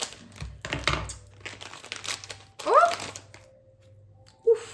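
Package being cut open with scissors, with bursts of crinkling plastic and rustling wrapper, a couple of sharp snips and handling noises close to the microphone.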